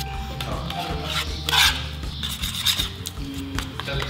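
Car body filler compound being stirred and beaten by hand, a steady scraping, rubbing rasp with soft clacks of the tool against the container, close and continuous, with no talking.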